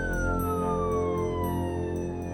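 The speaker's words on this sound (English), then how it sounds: "The ground ambulance has arrived to take Brendan to hospital." A ground ambulance siren sounds as the vehicle arrives at a crash scene, its loud wailing tone sweeping steadily downward in pitch over a low engine rumble, close and continuous throughout.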